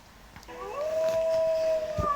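A single drawn-out cartoon dog howl rises then holds steady, fairly clear and close over a quiet background.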